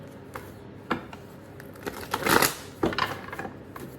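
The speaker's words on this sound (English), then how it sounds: "Just shuffling here a little bit before I get started with my Leos." Tarot cards being shuffled by hand, giving soft irregular riffles, taps and slaps at close range over a quiet room hiss, with a denser flurry near the middle.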